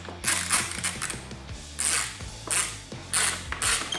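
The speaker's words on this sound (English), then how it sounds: "Next, I'm going to loosely attach my 3 lower fairing bolts." Fairing bolts being fitted on a 2014-2020 Harley Electra Glide police FLHTP, heard as close, repeated bursts of ratchet clicking in short rhythmic runs with brief pauses between turns.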